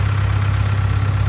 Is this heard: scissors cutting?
no